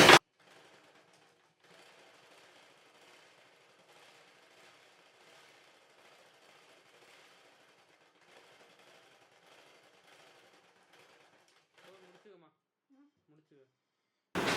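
A sewing machine stitching a blouse, running in faint rapid bursts of mechanical chatter for about twelve seconds at a low, steady level before stopping.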